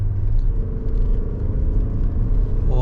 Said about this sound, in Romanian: Ai frână de motor atunci când ai nevoie de ea, gen acum.